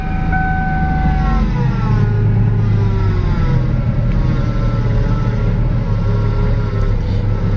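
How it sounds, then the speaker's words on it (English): A Ford engine with a yellow power steering reservoir idles loudly, a constant low rumble topped by a steady high whine from the power steering pump, close up with no talking. "any Ford motor that has this yellow reservoir, the power steering pump is always whining"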